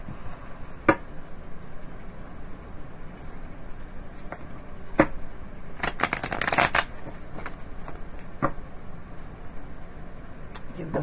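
Playing cards riffled and shuffled close by, with a quick flurry of crisp flapping in the middle and a few soft taps around it.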